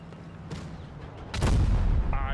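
A tank cannon fires in World of Tanks Blitz, a loud deep boom partway through that rumbles on to the end after a quieter stretch of game sounds.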